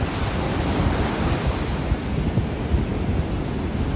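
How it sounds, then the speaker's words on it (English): Ocean surf rolling onto a Gulf of Mexico beach at sunrise, a steady wash of breaking waves with wind buffeting the microphone, continuous and close with no voices. "Ain't trying to get had again by those waves."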